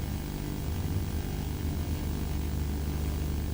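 A drone in the ARMA 3 video game gives a steady, continuous engine buzz with propeller drone, sitting close and loud with no pauses for the whole stretch.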